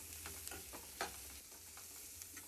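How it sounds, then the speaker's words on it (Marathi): Chopped onion and carrot fry in a pan, giving a steady close sizzle with crackles and brief stirring scrapes, and no voices. "गाजरही छान असं फ्राय करून घेणार आहोत आपण."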